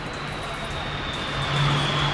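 A Tejas Mark 1 Alpha fighter jet on short final for landing at the Aero India 2025 air show in Yelahanka, Bengaluru, a steady loud engine roar with a high whine, swelling near the end.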